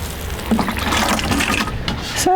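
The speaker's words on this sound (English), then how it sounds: "I'll give the corn a bit of watering while I'm here as well." Corn plants in a home garden are watered, a near, steady splashing and trickling of water pouring onto soil and leaves for a couple of seconds.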